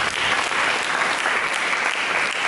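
A church congregation claps in steady, dense applause, a brief continuous burst from many hands at even loudness.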